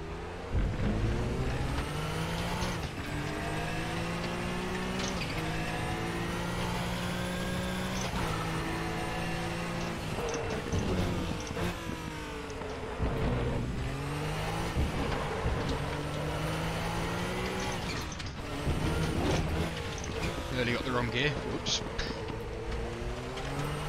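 A Joest Porsche 962 Group C race car in the RaceRoom racing game howls steadily at high revs, its engine pitch sweeping up and down through gear changes and turns, loud and continuous throughout.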